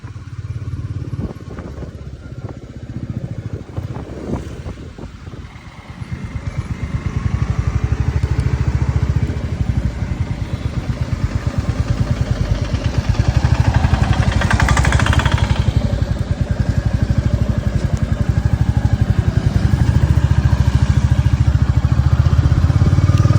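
A Royal Enfield Bullet 350 motorcycle rides along with a steady thumping engine that rises after a few seconds of lower running and holds a loud, continuous drone through gear changes.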